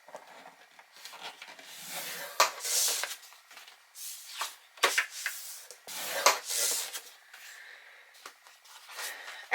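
Paper pieces are scored on a scoring board, a few short dry scraping strokes that are quiet and close, with brief pauses between them.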